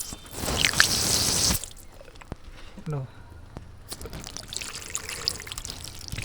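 Water splashes through the coolant reservoir pipe of a Hyundai Accent during a radiator coolant change: a close burst of about a second, then scattered drips while someone speaks.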